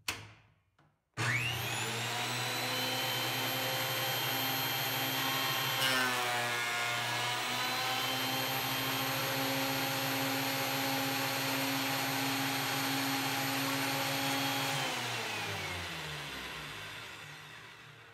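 A DeWALT DW733 thickness planer takes a 5 mm pass on a wooden board, spinning up to a loud, steady, high-pitched whine and cutting roar that holds for about fourteen seconds before winding down.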